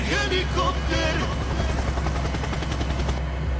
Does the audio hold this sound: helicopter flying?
yes